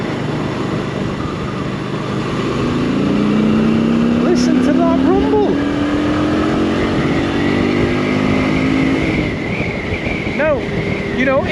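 Smallish motorcycle, unused for seven years, ridden through traffic; its engine drones steadily under heavy wind rush and climbs in pitch as it accelerates, with other vehicles passing close by and a rider talking over it.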